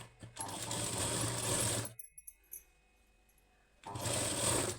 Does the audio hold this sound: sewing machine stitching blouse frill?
yes